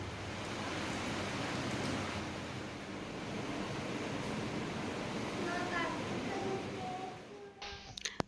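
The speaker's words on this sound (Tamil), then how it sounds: "வெளியே மழை வர ஆரம்பிச்சிருச்சு" Rain begins falling outside a home, a dense, steady hiss of rainfall that fills the scene evenly for several seconds before thinning out, with a few faint household sounds near the end.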